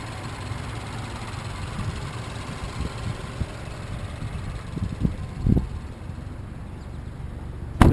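A 2009 Mazda Mazdaspeed3 with a 2.3-liter turbocharged four-cylinder idles smoothly, a low steady murmur heard from nearby, with a few soft knocks and a sharp click near the end.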